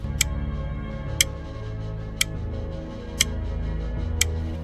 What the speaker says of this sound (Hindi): दीवार पर लगी घड़ी टिक टिक की आवाज कर रही थी।